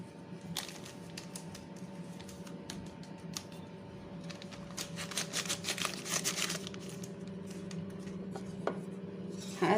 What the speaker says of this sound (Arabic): هنفضيهم هنا اهي، الفانيليا اهي والبيكنج باودر نص باكو هحط كله